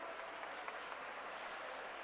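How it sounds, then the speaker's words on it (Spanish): An audience at a parliamentary debate applauds both teams, a brief, even patter of many hands heard faintly and at a distance, with no voices over it. "Un aplauso fuerte, por favor,"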